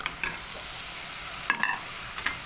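Frozen minced meat fries with onions while being stirred, giving a soft, continuous sizzle broken by a few scraping utensil strokes.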